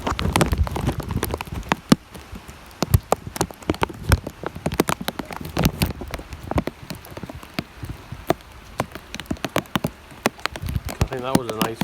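Heavy rain on a humid summer evening during a thunderstorm, with dense irregular drops pattering loudly on nearby surfaces throughout, and a few sharper splashes standing out.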